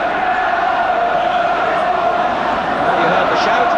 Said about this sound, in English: The crowd getting behind Wolves, a tremendous atmosphere